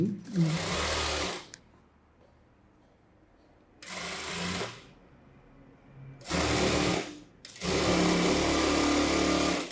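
Sewing machine running a rough straight stitch down the middle of a folded blouse band, in loud steady bursts of stitching separated by quieter pauses, close to the microphone.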